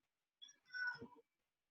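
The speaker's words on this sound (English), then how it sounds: "Sorry if you just heard my cat." A hungry house cat gives a single drawn-out meow, close and clear in an otherwise quiet room.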